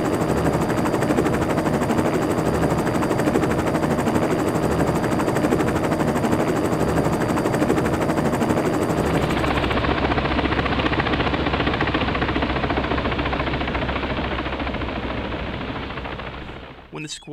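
Military medevac helicopter arriving during a simulated squad attack, a loud rapid rotor thudding mixed with bursts of gunfire-like crackle, the high whine dropping away partway and the noise fading out at the end.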